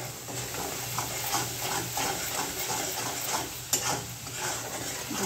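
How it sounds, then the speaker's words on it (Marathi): Garlic, chili and seeds frying in hot oil for a quick vegetable dish, a steady close sizzle with soft crackles and occasional stirring scrapes, no voices. "लसूण मिरची बी तळून निघाली."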